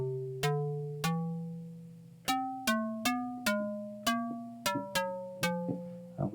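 Vital software synth patch with filter key tracking, playing a series of plucked notes on different keys, each a sharp attack that decays quickly, spaced unevenly over several seconds, fairly quiet and alone.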